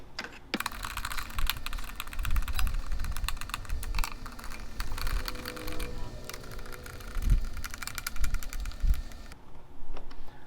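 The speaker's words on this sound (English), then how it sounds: "And then we'll just snug up these screws." Screws are tightened on the plastic air filter housing of a Mercedes C300, a quick run of close, rapid ratcheting clicks with a few soft knocks in between and quieter pauses.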